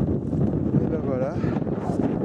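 Strong wind buffets the microphone on a mountain ridge crest in the Jura. It makes a rough, gusting rumble, and people talk briefly over it.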